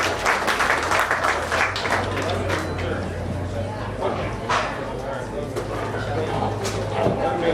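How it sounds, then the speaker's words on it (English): Applause from spectators at a county fair swine show, steady clapping mixed with barn noise and a low hum, with a voice talking over it throughout. "So go ahead and give him a big round of applause."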